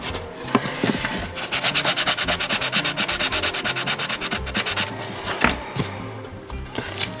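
Rhythmic back-and-forth sanding strokes on wood, fast and even, close up, pausing briefly then resuming with a few scrapes.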